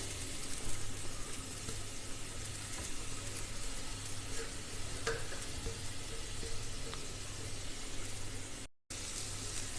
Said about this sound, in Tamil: இப்போ இதை வந்து இந்த நெய்யில் ஒரு 5 நிமிஷம் போல் நம்ம நல்லா வதக்கி எடுத்துக்கலாம்.